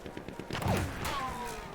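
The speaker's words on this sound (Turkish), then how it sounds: "Buradan bir yerden bir silah sesi geldi" A muffled burst of gunfire in Battlefield 1 thumps in the distance, followed by a sliding whine and a steady background hum.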